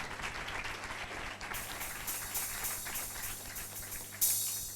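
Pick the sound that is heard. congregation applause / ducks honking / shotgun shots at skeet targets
congregation applause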